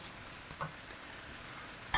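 Food fries in a wok with a faint, steady sizzle and crackle, a couple of small pops and a brief clink near the end, no talking.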